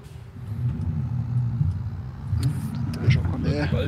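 Low engine rumble of a combine harvester driving in Farming Simulator 22, a steady mid-loud drone with a few clicks and faint game sounds on top, with someone talking over it.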